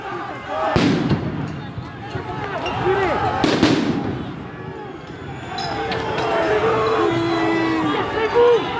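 Sharp loud bangs of police LBD launcher shots and tear gas grenades ring out at a Paris street protest, two strong reports early on amid a rumbling crowd, with someone talking over the chaos.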